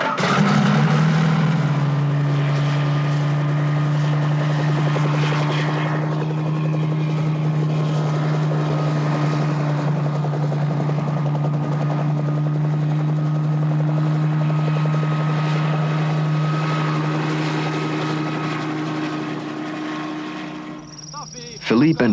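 A helicopter flies an aerial reconnaissance over the Blue Springs area, giving a loud, steady rotor and engine drone that holds almost unbroken for over twenty seconds before easing off near the end.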